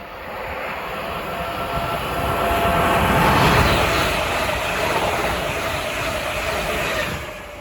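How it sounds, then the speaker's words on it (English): A London Northwestern Railway class 350 electric multiple unit passes on the West Coast Main Line at Bushey, heading from London Euston to Crewe. It makes a loud, steady rushing roar that swells toward the middle and holds to the end. "we have a London Northwestern Railway of class 350s going to pass by from London Euston to Crewe"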